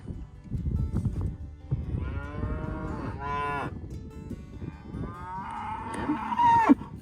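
Bred heifers on a farm moo several times, drawn-out lowing calls from a few animals near and farther off, with a louder call near the end.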